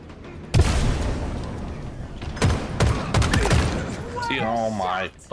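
Gunfire in the Halo video game, with loud bursts of shots at the start and middle, including a shotgun fired from long range. An electronic whirring effect follows near the end.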